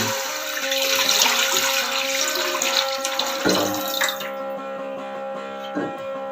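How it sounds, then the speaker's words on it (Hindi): Milk is poured into a pot on a stove for sabudana kheer, a close, steady liquid stream splashing for about four seconds before it stops, followed by quieter kitchen clinks. "फ्लेम ऑन कर दिया और अब इसमें मैं दूध ऐड करने जा रही हूँ।"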